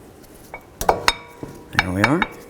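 A brake pad is slid into the front caliper bracket of a 2009-2020 Dodge Journey with a few sharp metallic clinks, then a short grinding scrape of metal on metal.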